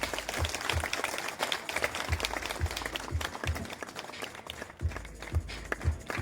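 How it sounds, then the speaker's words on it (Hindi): Steady audience applause fills a hall at a school management and teacher award function in Chamba, held at a moderate level for several seconds, with dull low thumps pulsing irregularly underneath. "कृपया तालियों में कोई कंजूसी ना हो।"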